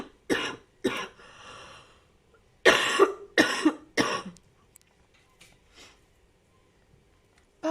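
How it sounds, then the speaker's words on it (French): A woman coughs in several sharp, close bursts, two single coughs followed by a tight cluster of three, then faint throat-clearing and quiet breaths in a still room. "Oh, je vais tousser, excusez-moi."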